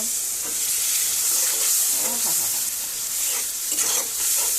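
Loud, steady sizzling and hissing as water is added to a hot frying pan, with faint stirring scrapes underneath and no talking.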